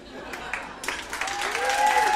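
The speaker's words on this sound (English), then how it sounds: "When you clap" Scattered audience clapping at a talk at People's Unlimited in Phoenix, Arizona, a few separate claps growing into fuller applause, with voices and a tonal sound rising underneath toward the end.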